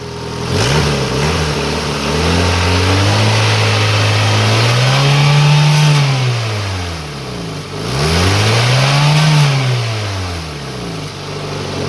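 A 2003 Honda Civic engine is revved twice with the throttle. Each time the pitch swells up and falls back to idle, giving loud, close rises and drops with no talking.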